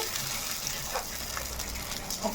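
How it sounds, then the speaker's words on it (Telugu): Water gushes steadily into a cooking pot holding fish curry pieces, a short continuous splashing pour at moderate level. "ఇప్పుడైతే నేను ఇందులో అయితే వాటర్ వేసేసుకుంటున్నాను"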